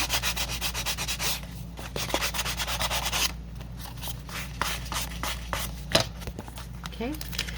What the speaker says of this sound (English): use my sanding block here real quick.